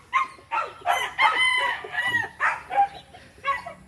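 Roosters and other fowl crowing and clucking on a rural cattle farm in the province, several overlapping calls in quick succession, close and loud, with no talk over them.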